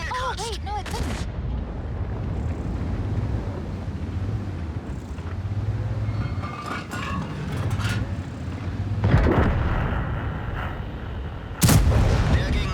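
A German tank destroyer fires in a video game under a steady engine rumble, with a few sharp cannon booms spread across the clip, the last one loud and close, and someone talking throughout.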